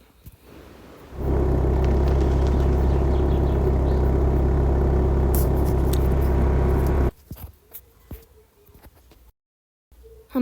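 A car engine in the Car Parking Multiplayer game revs up abruptly and holds a loud, steady droning rumble for about six seconds, then cuts off, leaving scattered clicks and brief silence.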